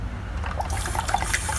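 Water is poured into a pot of horse gram with turmeric, a short steady splashing trickle with faint bubbling, close and continuous.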